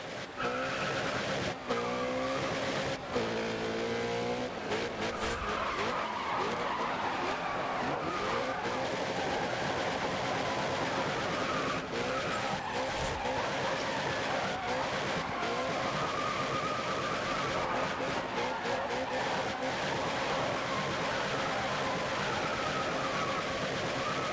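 A car in the racing game GRID Autosport drifts through a duel event, its engine droning steadily under long tire squeals and skids, constant and dense throughout.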